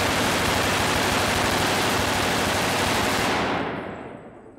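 Rapid video game gunfire recorded in varied environments, a dense continuous automatic burst that is loud and close, then cutting off and trailing into a short fading echo tail.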